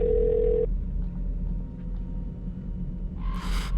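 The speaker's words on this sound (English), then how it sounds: "and I prayed as the phone rang." Telephone ringing on a 112 emergency call, a single steady ringback tone lasting under a second, then a low rumble and a short burst of noise at the end.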